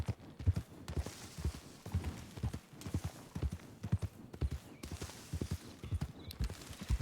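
A horse's hooves clip-clop at a steady walking rhythm on ground in the Western role-play game WildRP, close and clear, with no talking over them.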